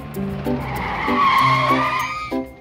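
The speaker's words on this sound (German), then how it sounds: "Schau, da ist ein Auto." A cartoon car drives past with squealing tires, a bright sustained skid rising over a rhythmic engine-like tone, loud and close for a couple of seconds with no talking.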